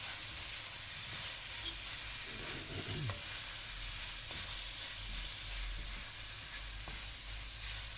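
Onions frying in a pan for a vegetable and meat stew, a steady close sizzle and hiss running throughout with a few light clinks, with no talking.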